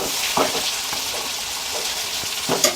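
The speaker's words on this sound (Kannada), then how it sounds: "ಇವಾಗ ಟೊಮೆಟೊ ಎಲ್ಲ ಫ್ರೈ ಆಗಿದೆ." Tomatoes frying in a pan for paneer masala gravy, a steady hiss and crackle broken by soft stirring scrapes, with no one talking.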